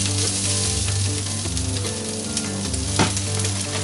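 Peppers and onions sizzle loudly in a hot pan while being given a final stir, a dense, even crackle with utensil scrapes and one sharp clack near the end.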